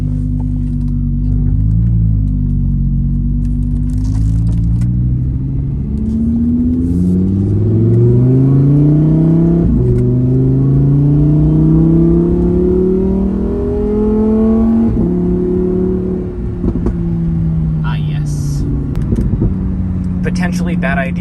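Lamborghini Huracan EVO Spyder engine revving loud and close through an open rear window, its pitch climbing and falling through repeated pulls and shifts, with a person talking over it.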